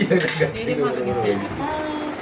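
Plates and pots clink and clatter as biryani made from ration rice is served, with brief metallic knocks under steady conversation in the room.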